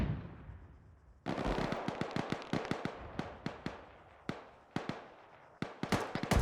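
Rapid gunfire from an Arma 3 military battle, with bursts of sharp shots in an irregular rhythm that ring out loud against a quiet background, with no talk.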